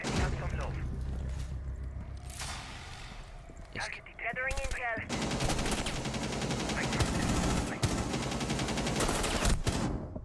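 Gunfire in Rainbow Six Siege ranked play, bursts of rapid shots and sharp cracks spread through the stretch, loud and close, with players talking over them.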